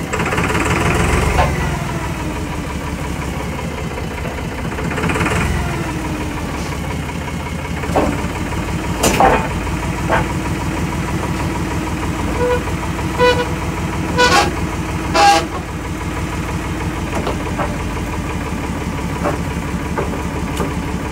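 Chevy C10 square body truck engine idling and pulling into a garage, a steady low rumble running throughout, punctuated by several brief horn-like toots and clunks, with a person talking over it at times.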